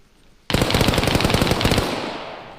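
A shooter dumps his magazine in a rapid burst of gunfire, a loud, close string of evenly spaced shots lasting over a second that cuts in abruptly and tails off into echo.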